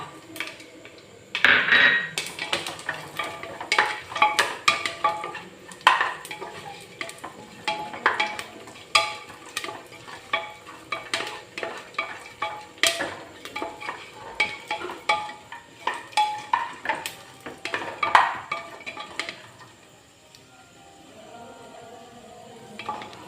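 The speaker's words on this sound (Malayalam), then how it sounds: "നട്ട്സും ചേർത്ത് നന്നായിട്ടൊന്ന് ഇളക്കാം ഇനി നമുക്ക് കിസ്മസ് ചേർക്കാം" Nuts and raisins fry in ghee while a spoon stirs them in a pan, repeated clinks and scrapes of metal on metal over a faint sizzle, steady through most of the stretch before tapering off near the end.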